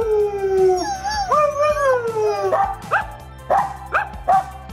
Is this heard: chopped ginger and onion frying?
no